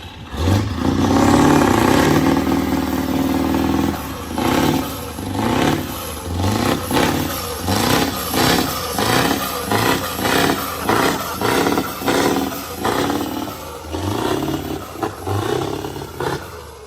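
A heavily modified engine with a massive turbo and injector upgrade roars loudly, then rips through a rapid series of rhythmic revs and blips, close up with no speech.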